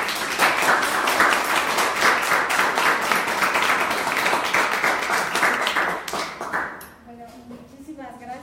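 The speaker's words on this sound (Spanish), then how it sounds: "Un aplauso." Audience applause at a talk in Madrid on wind farms, dense steady clapping from many hands for about six seconds, then fading out as a voice begins speaking at the end.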